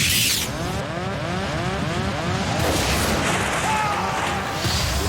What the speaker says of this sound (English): With a huge explosion, the captain's windscreen blows out into the sky.